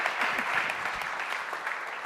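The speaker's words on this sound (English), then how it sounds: "Let's give another round of applause for our authors as well." Audience applause fills a book award ceremony, a steady dense wash of clapping held at even loudness for two seconds with no voices over it.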